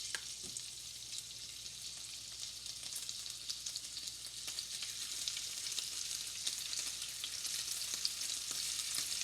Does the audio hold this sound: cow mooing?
no